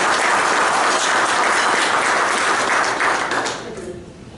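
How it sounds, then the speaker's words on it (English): An audience at a business breakfast event applauds loudly and steadily for several seconds before the clapping thins and fades out. "if you could please give him a round of applause"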